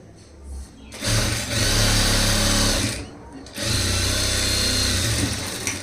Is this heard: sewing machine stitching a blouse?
yes